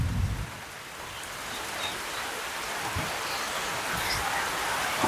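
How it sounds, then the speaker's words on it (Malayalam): Heavy rain falls steadily on a green, leafy spot in Marayur, making a dense, even hiss that holds for the whole stretch without a break. "നല്ല മഴയാണ്"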